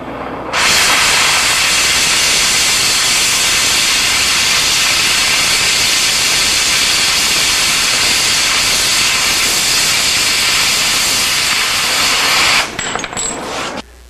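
An oxy-acetylene torch cuts through metal with a loud, steady roaring hiss that runs unbroken for around twelve seconds, then abruptly stops, leaving brief faint clinks.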